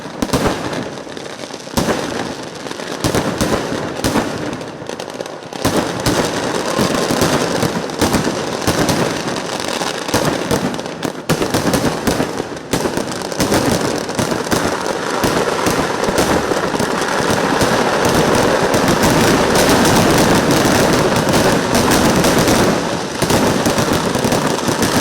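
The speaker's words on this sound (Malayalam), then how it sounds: "ഓലപ്പടക്കത്തിൽ തുടങ്ങി കുഴിമിന്നലിലൂടെ മുന്നേറി കണ്ടു നിൽക്കുന്നവരുടെ ചങ്കിടിപ്പേറ്റുന്ന കൂട്ടപ്പൊരിച്ചിലിനൊടുവിൽ വർണ്ണങ്ങൾ വാരി വിതറിക്കൊണ്ടുള്ള അമിട്ടുകൾ പെയ്തിറങ്ങി." Thrissur Pooram sample fireworks: firecrackers and aerial shells set off in a loud, unbroken barrage of crackling bursts and booms that builds into a dense, roaring mass of explosions.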